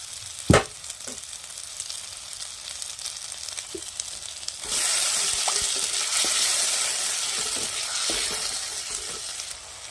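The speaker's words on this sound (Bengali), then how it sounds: "তেল গরম হয়ে গেছে, এবার এর মধ্যে মশলার পেস্টটা দিয়ে দেব।" Spice paste hits hot oil in a kadai for paneer and breaks into a loud, steady sizzle that grows stronger midway, with a few stirring clinks and scrapes and no talk over it.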